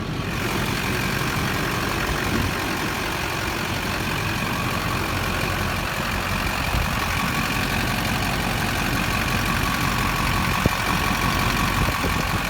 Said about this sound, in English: my phone's going to amplify the engine noise